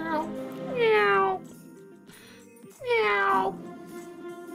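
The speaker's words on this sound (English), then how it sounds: "Oh, look, he's a cat." A cat meows twice in the School of Dragons video game, each call a drawn-out, rising-and-falling cry separated by a quiet pause over a steady game background.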